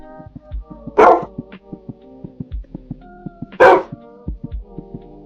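A dog barks twice, about three seconds apart, in short loud bursts over a steady tonal background with scattered soft knocks.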